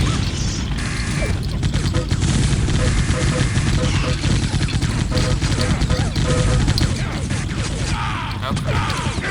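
A Quake 3 arena match with dense, rapid weapon fire, including machine-gun bursts, clattering mechanical sounds and impacts, loud and continuous throughout, with a voice heard among the gunfire.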